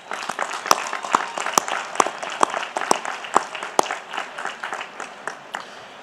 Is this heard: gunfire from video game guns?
no